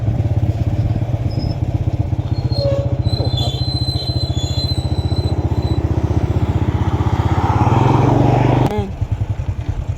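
A motorcycle runs steadily along a roadside with a loud, continuous engine drone that shifts briefly near the end, mixed with rattling and faint voices in the background.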